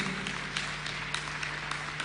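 An audience applauds students at a general competition ceremony, steady dense clapping from a large crowd throughout, moderately loud and slightly distant, with an electrical hum beneath.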